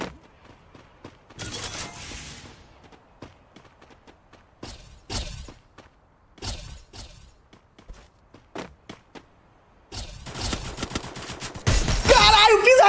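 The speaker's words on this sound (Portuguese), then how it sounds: "Um tiro!" Bursts of gunfire from the video game Free Fire crackle in short separated volleys with soft footsteps between them, ending in a louder sustained rattle of shots.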